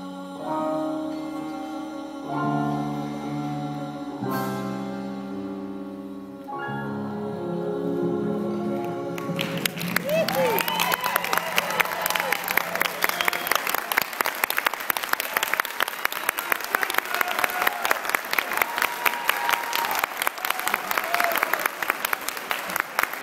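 Sustained theater audience applause for performers including kids from an education department, breaking out loudly after a held sung note and continuing as a dense wash of clapping and cheers.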